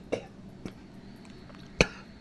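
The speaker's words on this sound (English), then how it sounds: "I start coughing." A man coughs three times, short sharp bursts spaced apart, the last one loudest, close to the microphone with quiet room noise between.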